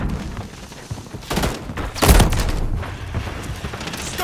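Video-game combat gunfire, a burst of loud heavy shots and booming impacts with a strong thump near the middle, all close and dense, without speech.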